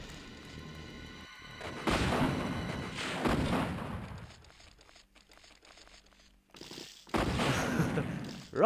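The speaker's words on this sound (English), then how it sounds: "Rocket launcher." A rocket launcher fires in Resident Evil: Deadly Silence with heavy, booming blasts, three loud bursts spaced a few seconds apart, each followed by a crackling, crunching tail, with quieter game sounds between.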